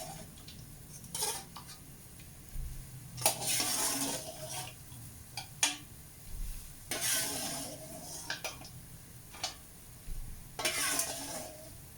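Beef tripe and boiled beef go into a pot for Padang-style gulai and are stirred: repeated scraping and clinking stir strokes over a soft sizzle, with irregular bursts of utensil against metal, no voices.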